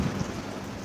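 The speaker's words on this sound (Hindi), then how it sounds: "बस इतनी बारिश ठीक है, इससे ज़्यादा ना हो।" Steady rain falling outdoors during a light shower in Dubai, a continuous close wash of drops with a faint low rumble underneath and no voices.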